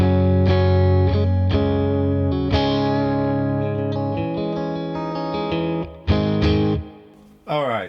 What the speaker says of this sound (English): Let's put the other reverb back on.